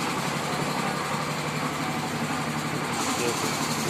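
A DTZ 570 walk-behind tractor engine runs steadily at idle, a constant close mechanical drone with vibration and no change in pace.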